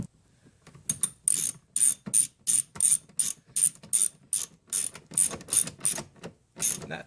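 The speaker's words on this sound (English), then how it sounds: "you get your ratchet and your 2 screws" A ratchet drives screws into a Mazda CX door panel, giving a close series of about a dozen quick clicking bursts in an even back-and-forth rhythm, with no voices.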